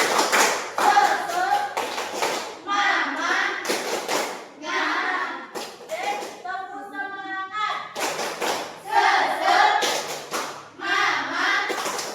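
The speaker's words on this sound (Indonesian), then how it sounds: "Tepuk semangat dulu dong kita, yuk." Short bursts of group rhythmic clapping, a tepuk semangat cheer in a morning maths lesson, several patterned rounds separated by an adult voice leading the chant, with children's voices joining between claps.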